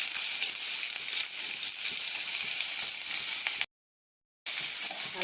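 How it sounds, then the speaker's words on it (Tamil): Sliced onions sizzle in hot oil in a kadai with mustard seeds, cinnamon and two chillies, a steady close bright hiss that cuts out briefly to silence and then resumes. "நல்லா வெங்காயம் வதங்கிட்டு"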